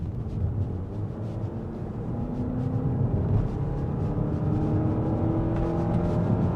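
Honda Odyssey minivan engine revving while parked, a steady moderate engine hum that rises gradually with whirring overtones.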